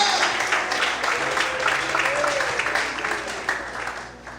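Church congregation applauding during a sermon, a broad sustained clatter of many hands that fades slightly toward the end, with a voice briefly audible beneath it.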